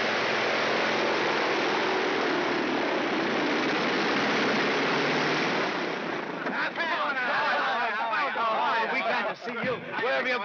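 Loud, sustained propeller aircraft engine drone as a plane flies low overhead and comes in to land, steady at first and then fading as people shout and talk over it.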